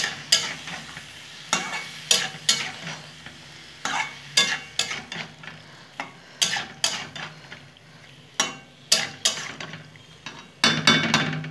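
Cabbage is stirred with spices in a hot pan: a low frying hiss sits under a series of irregular, close scraping strokes of a utensil against the pan, some in quick clusters.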